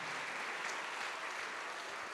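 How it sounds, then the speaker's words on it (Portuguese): A church congregation applauds during a sermon with continuous, dense clapping from many hands. It sounds even and moderately loud throughout the brief stretch, with no speech on top. "Vamos aplaudir por cada vida que está chegando."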